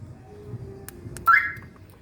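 An Ultra UT5100 Pro alarm fitted to a Renault Kwid is disarmed, with a couple of faint clicks followed by a short, bright electronic chirp that fades quickly.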